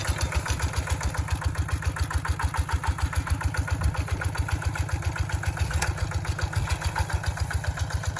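An old Kubota ET95 engine, nearly thirty years old, drives a water pump set up with an 8-inch intake pipe, chugging in a steady, fast, even rhythm throughout, loud and close with no voices.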